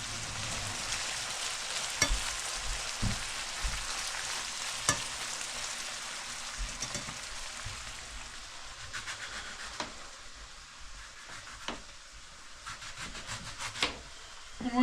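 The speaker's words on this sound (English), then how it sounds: "Got the bacon pan frying." Steady crackling sizzle of bacon frying in a pan, continuous throughout with occasional sharp clicks and clatters nearby.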